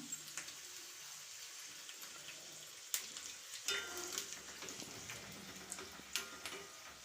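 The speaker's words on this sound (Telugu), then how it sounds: "నూనె కాగింది మిరపకాయలు మనం తుంచుకున్నాం కదా అది వేసుకున్నాము" Dried red chillies sizzling in hot oil for a bitter gourd chutney, a steady close crackling hiss with a few sharper pops and clinks, no talking.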